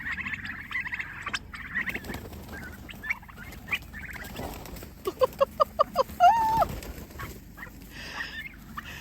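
Six-week-old turkey poults calling near a coop, with soft peeping trills and a quick run of rhythmic chirps followed by a rising whistle, faint and fairly close amid quiet background noise.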